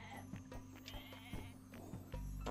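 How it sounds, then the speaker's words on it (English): Goats bleat in the video game Age of Mythology, several short, separate bleats over a steady low game hum and soft background clatter, moderately close. "Oh, more goats."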